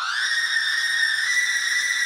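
A time-stretched scream sample treated with distortion, chorus and EQ, built to mimic the scream in a song, holds as one steady, bright, sustained wail for about two seconds, pitch rising slightly at the start, with no other sounds.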